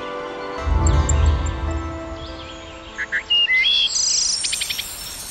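Small insectivorous songbirds sing outdoors, with a low rumble early on, then clear chirps and rising whistled phrases, moderately close.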